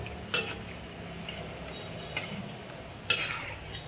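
Dal-and-rice gulab jamun frying in oil, a low steady sizzle broken by three brief clinks and scrapes of a utensil against the pan, quiet and close with no speech.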